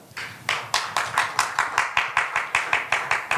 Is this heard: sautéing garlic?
no